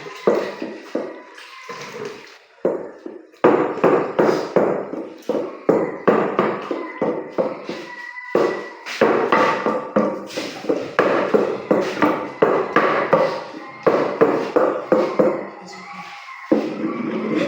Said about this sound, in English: now I'm mashing it with I'm mashing it with the mortar